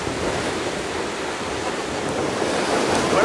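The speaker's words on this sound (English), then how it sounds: "You see how windy it is, can't you?" Steady roaring wind on the coast at Torrevieja, Spain buffets the microphone over a broad wash of surf, loud and unbroken, growing slightly stronger toward the end.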